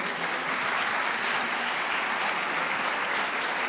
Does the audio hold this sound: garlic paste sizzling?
no